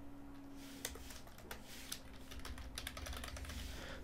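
Quiet, close typing on a computer keyboard while entering sketch text in CAD software, with a run of irregular key clicks over a low steady background hum.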